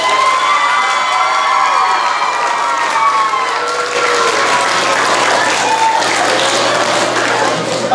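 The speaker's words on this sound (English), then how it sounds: "let's have another big round of applause" An elementary school audience at a geography bee breaks into loud, sustained applause with cheering, children's shouts and whoops rising over the clapping throughout.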